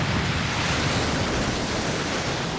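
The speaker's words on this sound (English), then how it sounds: "The cyclone suddenly blows up out of nowhere." Cyclone winds sweep over open ocean in a dense, steady roar of wind and surf, loud and unbroken throughout with no voices.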